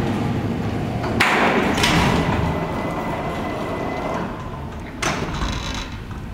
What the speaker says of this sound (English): Now, this is where we have to close the door.